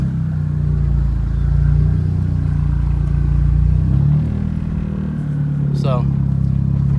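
A Chevrolet Cobalt with a freshly repaired axle idles and creeps backward, its engine giving a steady low rumble that shifts slightly midway, close by, with a brief squeak near the end.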